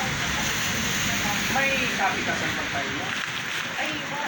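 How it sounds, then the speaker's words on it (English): Steady rain falls on a property site in the Philippines, a constant dense hiss filling the whole clip, with faint chirping and a soft voice partly audible beneath it. "Well, it's raining"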